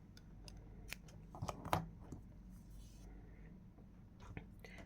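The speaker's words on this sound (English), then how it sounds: "Okay, now just leave a small tail and cut this." Scissors snip a crochet yarn tail in a quiet room: one or two soft, brief clicks, with light rustling and handling noise around them.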